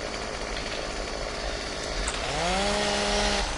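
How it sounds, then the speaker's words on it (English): A chainsaw cuts wood in the video game Farming Simulator 17, a loud continuous buzzing drone that rises in pitch and strains toward the end as the blade bites in. "Take out the chainsaw."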